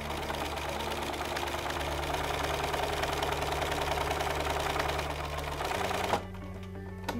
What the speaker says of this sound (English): I'm going to show you by sewing on some plain fabric up above my pleat at the normal 15mm seam allowance